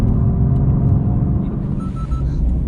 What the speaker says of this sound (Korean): 다른 엑스드라이브 시스템은 엑셀 끝까지 밟아